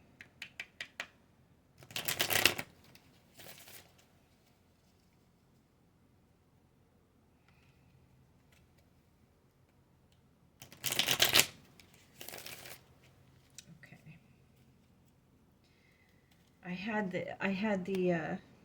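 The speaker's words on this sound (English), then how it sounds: "It wants to be shuffled again, but I can't shuffle it up there." Tarot cards are shuffled in short crisp riffling bursts separated by quiet pauses, with a brief spoken voice near the end.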